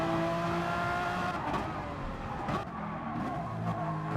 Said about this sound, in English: sounds like a Group C race car